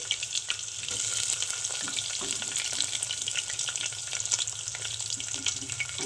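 Chopped onions frying in hot oil with bay leaf, dried red chilli and whole garam masala for handi chicken, a steady close sizzle with occasional stirring scrapes, no voices.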